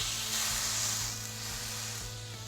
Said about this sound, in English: Let's go ahead and get this backstrap on there for a great sear.